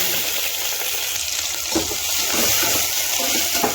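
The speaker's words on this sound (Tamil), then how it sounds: "வெங்காயத்தை நல்லா வதக்கி விடணும்" Onions frying in oil in a pan for vegetable biryani, a loud continuous hiss and sizzle, close and steady throughout, with a faint stir-like scrape partway, no speech.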